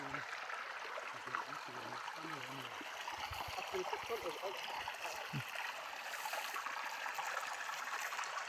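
A stream flows steadily with a continuous broadband rush and trickle of water, close and even throughout, with faint scattered lower sounds beneath.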